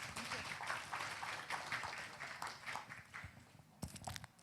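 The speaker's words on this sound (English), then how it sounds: "Please give him a round of applause." An audience at a policy conference session in Bali gives a round of applause, a moderately loud, continuous patter of clapping that thins out toward the end, where a few louder isolated claps and faint voices come through.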